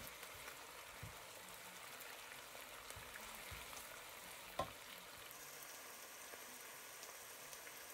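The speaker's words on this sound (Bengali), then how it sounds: "পেঁয়াজকে কিছুক্ষণের জন্য তেলের উপর কষিয়ে নিচ্ছি যাতে এর কাঁচা ভাবটা চলে যায়" Onion paste frying in oil gives a faint, steady sizzle and crackle with a few soft clinks of stirring, low and even throughout.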